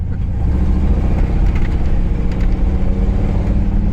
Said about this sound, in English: Little four-wheel spin there.